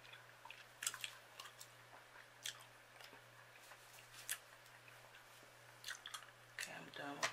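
Gum chewed close to the mic: soft, irregular wet smacks and squishy clicks, faint and continuous, with no one talking.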